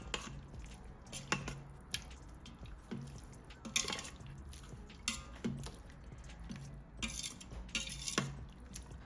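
A spoon scrapes and knocks through coconut milk pulao with garam masala and cumin in a pot, soft irregular clinks and wet squishes, quiet and close.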